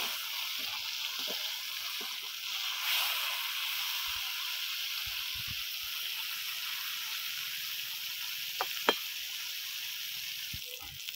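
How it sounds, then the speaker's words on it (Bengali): Bitter gourd frying in hot oil gives a steady, faint sizzle throughout, with a few soft scrapes and clinks as it is stirred in the pan. "এবার এইভাবে নাড়াচাড়া দিয়ে উচ্ছেটাকে ভালো করে ভেজে নেব"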